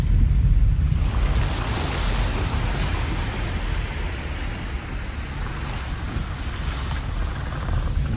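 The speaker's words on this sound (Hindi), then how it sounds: "अभी पानी चल भी रहा है इधर" Water flows through a jungle stream at night in Jim Corbett, a steady broadband rush that is loud and close, with wind buffeting the microphone throughout and no voices.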